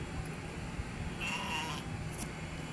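Sheep in a yard with goats, short of grass and chewing on cardboard, give a brief bleat partway through against a steady, noisy farmyard background.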